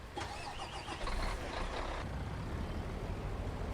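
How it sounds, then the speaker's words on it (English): Truck engine idling in the Farming Simulator 19 video game, a steady close diesel rumble with a brief higher mechanical whine and hiss in the first two seconds, no talk. "Oh, the engine was still running because I didn't go far enough away."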